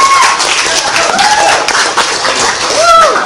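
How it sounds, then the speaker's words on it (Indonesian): A high-school classroom breaks into steady, dense applause from many students, a loud continuous wash of hand claps lasting the whole moment with no pauses. "Tangan aplaus lagi"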